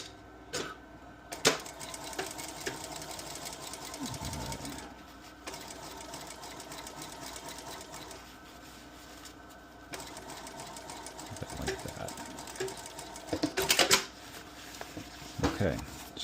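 A sewing machine top-stitches a Seattle bucket hat in several bursts of rapid mechanical whirring, broken by short pauses and handling clicks, near and moderately loud, with talking in places.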